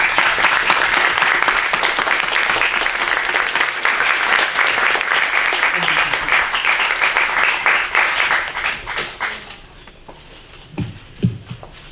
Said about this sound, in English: I ask you to give her the applause, a warm felt applause that we all feel for her.